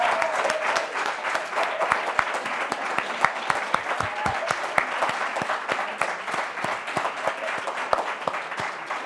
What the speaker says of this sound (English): that does deserve its own particular round of applause